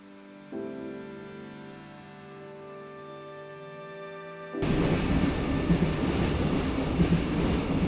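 An Oigawa railway train rumbles steadily along, a low tonal hum under rail noise that surges abruptly louder and broader partway through, as if a carriage noise swells close by, with no talking.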